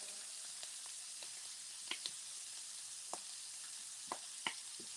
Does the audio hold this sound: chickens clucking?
no